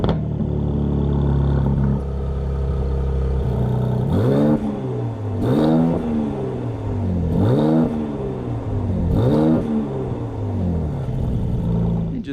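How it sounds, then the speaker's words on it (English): A Mercedes-AMG C 43 Convertible engine idles with a deep rumble, then revs sharply four times, each blip rising and falling, loud and close without speech. "you're going to hold the left shifter paddle back and then start the engine"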